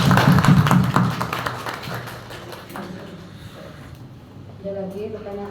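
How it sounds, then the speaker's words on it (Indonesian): Applause from a classroom audience for sixth-grade students after a final project presentation: a burst of loud clapping at the start that fades under a voice speaking over it. "kita kasih tepuk tangan dulu"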